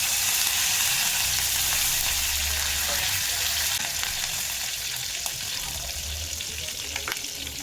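Mustard seeds, cumin, green chili and curry leaves tempering in hot oil for khaman dhokla, giving a steady, loud, close sizzle that holds throughout with a few faint pops and no talk.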